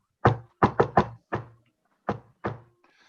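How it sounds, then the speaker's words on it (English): Knuckles rap on a door in sharp, close knocks: a single knock, a quick triple, another single, then two more after a pause, alone with no other sound. "He knocked on Dog's door."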